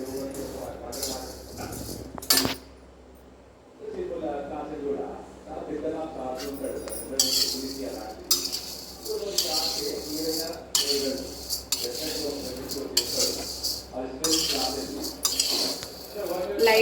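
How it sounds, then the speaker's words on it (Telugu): Vermicelli is dry-roasted in an iron pan on a stove without oil or ghee. A spoon scrapes and clinks against the metal in irregular bursts, close and fairly quiet, with a person talking over it. "స్టవ్ మీద ఒక ఇనుప మూకుడు పెట్టుకొని సేమ్యాని లైట్గా ఫ్రై చేయాలండి"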